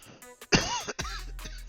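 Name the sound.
cough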